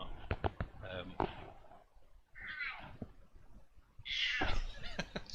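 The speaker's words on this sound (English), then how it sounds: "She's just meowing at my face." A deaf cat meows loudly and insistently several times at close range, the drawn-out cries mixed with tapping and handling noises.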